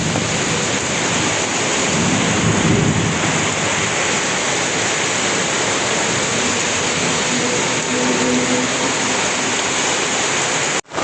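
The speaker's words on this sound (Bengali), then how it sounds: "আজকে অনেক জোরে ঝড় শুরু হয়ে গেছে। প্রচণ্ড ঝড় হচ্ছে" A heavy storm pours down in a dense, roaring wash of rain with a deep rumble underneath, loud and unbroken throughout, with no voices.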